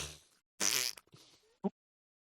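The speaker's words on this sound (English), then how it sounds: "I went with fart noises instead of time machine noises" Fart noises stand in for a time travel sound effect: one loud, raspy blast, then a softer sputtering trail and a brief final squeak.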